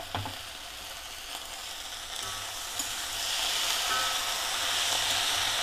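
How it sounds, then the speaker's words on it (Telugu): Tomatoes dropped into a hot frying pan for a kambala kadala curry hiss and sizzle steadily, the crackling spatter growing louder and denser after a few seconds, heard alone. "ఇప్పుడు మనం టమాటాలు వేసుకుందామండి"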